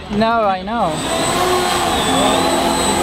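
A Quadshot RC quadcopter's motors whine loudly and steadily at close range, pitch swooping up and down as throttle shifts early on, with a person's voice over it.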